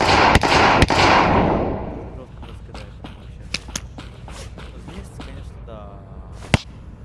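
Sharp video-game gunshots from LOCKDOWN Protocol crack in an irregular series, a few loud ones over a rushing noise at first, then scattered quieter shots and clicks with brief electronic tones.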